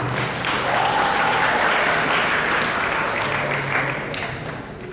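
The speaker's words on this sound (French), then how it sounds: "Je vous demande de les applaudir s'il vous plaît." Audience applauding at a graduation ceremony for cosmetology, bar and restaurant students, a dense sustained roar of many hands clapping that fades slightly toward the end.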